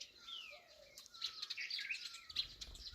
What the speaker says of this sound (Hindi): पक्षियों की गजब चहचहाने की आवाज़ आ रही है